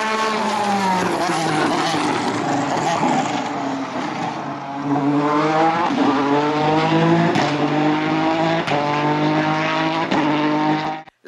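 McLaren P1 race car, about 875 horsepower, running on a track at an automobile event, a loud engine howl rising and falling through repeated gear changes, close and sustained, cutting off at the end.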